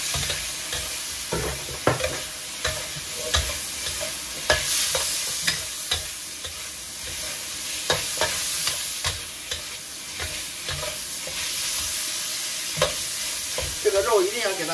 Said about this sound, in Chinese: 这个肉一定要给它炒好了